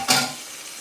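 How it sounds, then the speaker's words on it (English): Chicken searing in a pan for arroz con pollo, a brief burst of hissing sizzle that flares sharply then settles into a soft steady crackle. "Oh, you hear that sizzle?"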